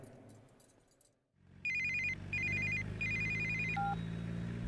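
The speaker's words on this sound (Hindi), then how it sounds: "ए सुन, तेरे लिए फोन है।" A telephone rings close by in a police station, with three bursts of a bright electronic trill after a moment of quiet and then a short lower tone.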